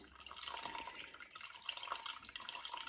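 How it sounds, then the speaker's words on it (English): Filtered water poured from a Brita jug into a bowl for sourdough bread: a faint, steady trickling and splashing stream that runs without pause, quiet and close. "So you just start pouring. I do filtered water."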